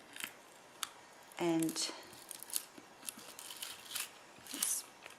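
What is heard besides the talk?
cutting through rubber glued to a round base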